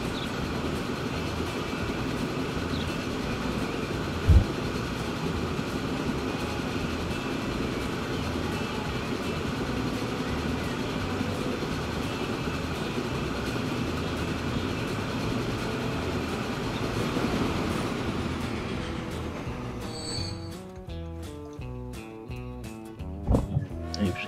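A train in the Transport Fever game rolls along with a steady, loud rumble for about twenty seconds, then gives way to sharper rhythmic clicking and clattering near the end.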